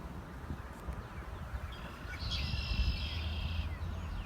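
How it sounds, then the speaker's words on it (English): Birds chirp faintly in the distance outdoors at a parked spot near railroad tracks, a thin trill over a low rumble of wind and ambient noise. "I don't know if you can hear the birds"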